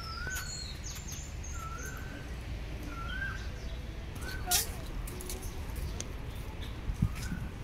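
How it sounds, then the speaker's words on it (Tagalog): Birds call loudly from trees in a waterfront park in Tai Po, with repeated short calls and chirps over a steady background hum, some nearby and some farther off. "Mga ibon na nagsisigawan."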